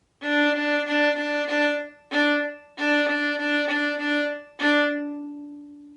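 Sustained bowed string tones, four separate strokes with short gaps, the last one ringing out and fading; clear and close, no voices.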